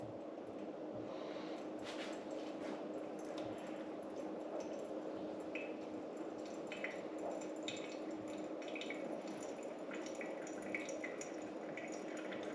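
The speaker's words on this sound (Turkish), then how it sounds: "15 gram kahveye 15 çarpı 15 225 gram su ilave ederek demlemeyi tamamlayacağım" Water is poured slowly and steadily over 15 grams of coffee grounds during a pour-over brew, a soft continuous trickle with faint drips and wet gurgles, quiet and close.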